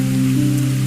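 Gentle rain patters steadily on a surface, a soft continuous wash of drops heard close and alone, with no voices.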